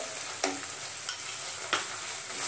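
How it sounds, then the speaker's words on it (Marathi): Potato bhaji with turmeric and coriander powder sizzles steadily in a pan, a constant close frying hiss broken by a few distinct scrapes of stirring. "आपण हे 2 मिनिटं परतून घेऊ।"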